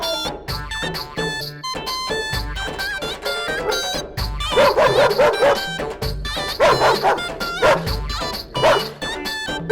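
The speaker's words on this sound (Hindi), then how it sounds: "ये कुत्ता कहाँ से आ गया?" A dog barks in repeated loud yipping bursts amid a rural village comedy scene, with whimpering tones between barks over lively background music.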